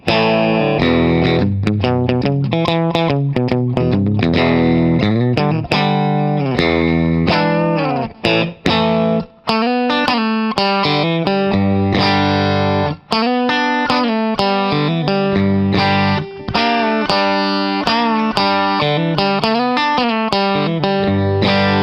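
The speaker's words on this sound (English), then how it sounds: "That's gonna be the humbucker split and the middle pickup." A Stratocaster-style electric guitar built from a kit, played through the split humbucker and middle pickup combination, with a loud, continuous run of quick picked notes and chords carrying a bright, slightly driven, chorus-tinged tone.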